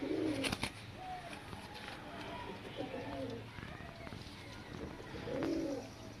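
Pigeons coo softly in a few rounded, throaty bursts at a pigeon sale, one near the start and another toward the end, over low background murmur and a faint voice.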